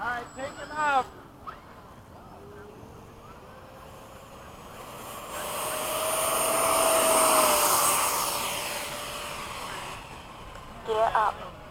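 F-16 jet engines roar from inside the cockpit during a formation runway takeoff at Bayside, a steady rushing whine that swells to a broad peak and then eases, with brief radio-style voices at start and end.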